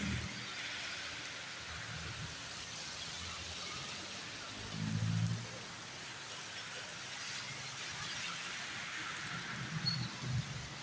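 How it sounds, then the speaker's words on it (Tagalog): Steady broadband hiss of heavy rain, dense and continuous, with a couple of low rumbling swells partway through. "Napakalakas ng ulan"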